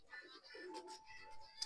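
Racing pigeons coo softly in a loft, low throaty calls that come and go, faint and close, with a brief click near the end.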